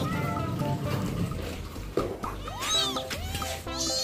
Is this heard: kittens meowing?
yes